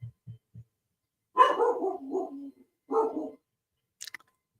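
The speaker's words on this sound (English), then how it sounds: "Cue the dog." A dog gives a few low soft woofs, then two longer, louder barks at close range, with a brief faint high sound at the end.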